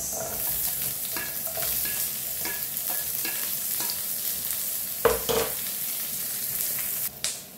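Garlic and onion sauté in a pan for tinolang manok: a constant soft sizzle runs under scattered spoon scrapes and stirring clicks, with a louder clatter near the end and no speech.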